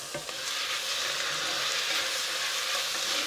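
Tomatoes frying in a pan with garlic and onion for matar paneer: a steady, loud hiss and sizzle fills the whole clip, with a few faint stirring scrapes near the start and no talk.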